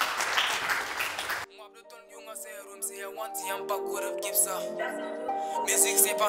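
Brief applause for a young performer of the new-generation music scene, a burst of crowd clapping lasting about a second and a half before it cuts abruptly to a voice speaking over music.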